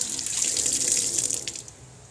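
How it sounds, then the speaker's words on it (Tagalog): A running tap gushes steadily as freshly picked blackberries are rinsed under it. The hiss of water is close and fairly loud and eases off slightly near the end, with no voices. "hugasan mabuti kasi maraming alikabok"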